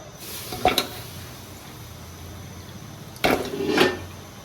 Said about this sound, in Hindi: सबसे पहले मैंने प्रेशर कुकर चूल्हे पे रखा, फ्लेम ऑन की। इसमें हम पाए ऐड करेंगे।